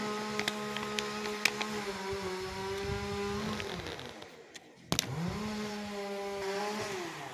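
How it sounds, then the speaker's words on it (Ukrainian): A petrol chainsaw clearing brush from a ditch drones nearby, its engine whining steadily, briefly dropping to idle, then revving back up to a high buzzing pitch. "Працює в нас бензопила."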